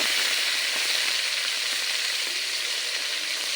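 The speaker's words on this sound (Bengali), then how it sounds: "এটা এখন ভেজে নিবে এটা হালকা করে ভেজে নিবে" Onion and green chili frying in a wok for a beef bhuna, a steady, close, even sizzle with soft crackle and occasional stirring, no talking.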